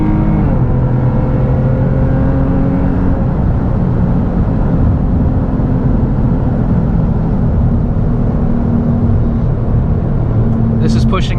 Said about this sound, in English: I can full throttle right here. This is flat foot.